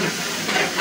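Onions and green chillies dropped into hot oil for a rohu fish curry, giving a steady close hiss of sizzling that swells slightly toward the end.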